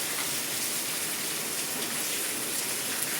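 Steady rain pours down in a continuous hiss, dense and even throughout with no pauses.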